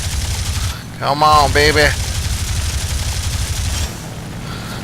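Rapid machine gun fire from an aircraft in War Thunder rattles continuously as a steady low pulse, while someone briefly speaks over it. The firing cuts out near the end.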